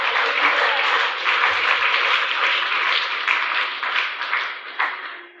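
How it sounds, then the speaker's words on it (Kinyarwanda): A church congregation claps in sustained, dense applause for about five seconds, loud and even before tapering slightly at the end, with no speech over it. "Ariko wayikomeye amashyi."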